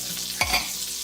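A very small dab of butter melts in a frying pan on medium heat for crepes, giving a soft steady sizzle with a few quick scraping stirs close by and no talking.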